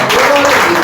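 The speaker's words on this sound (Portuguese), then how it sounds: "e as palmas que louvam o Senhor Jesus" A church congregation applauding at a worship service, a brief loud wash of clapping with voices over it.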